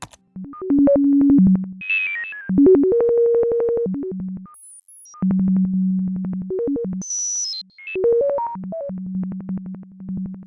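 Slow synthesized beeps step through sustained pure tones at changing pitches, with a few high chirps in between and short gaps of silence.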